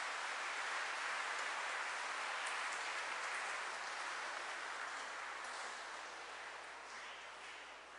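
A church congregation at a priestly ordination anniversary celebration applauds to welcome newly ordained priests, a dense, steady wash of clapping heard from a distance that slowly fades.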